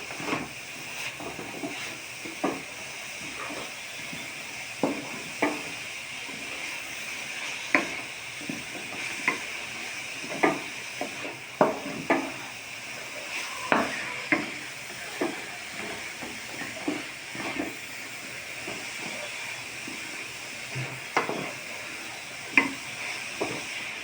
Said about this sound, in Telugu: అడుగు పట్టకుండా చక్కగా ఇలా ఫ్రై చేసుకోవాలి ఫ్రెండ్స్